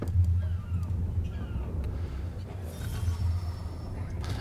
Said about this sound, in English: Now he hears the birds and he knows he's near the coastline.